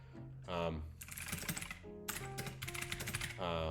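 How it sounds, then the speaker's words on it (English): Clicky mechanical keyboard typing in bursts of rapid keystrokes, interleaved with someone speaking close to the microphone. "We now have a mechanical keyboard."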